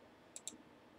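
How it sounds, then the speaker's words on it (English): Two quick, faint clicks close together in a Bomb Boxes jersey break with a light display, with a low room hum beneath and no talking. "Winning click, folks."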